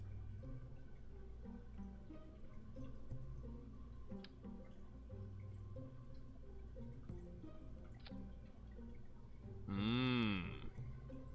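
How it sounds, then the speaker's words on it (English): Modded Kerbal Space Program plays one cow-like moo near the end, a drawn-out wavering tone that rises and falls, after a long stretch of quiet background hum and faint ticks. "Sound like a cow."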